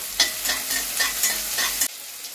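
Steady sizzling of eggs frying in a pan for egg chachchari, with rhythmic scraping strokes of a spatula stirring, then the sizzle drops away abruptly near the end.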